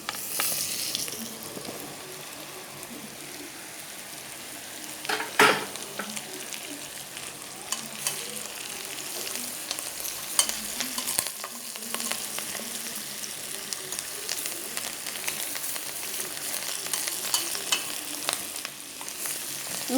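Chopped pumpkin frying in a pot for pumpkin soup gives a continuous close sizzle and crackle, with occasional sharper scrapes and knocks from stirring, no voices heard.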